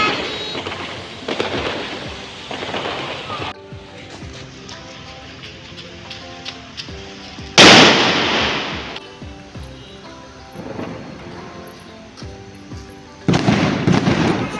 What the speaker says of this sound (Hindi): पटाखे जलाने के लिए।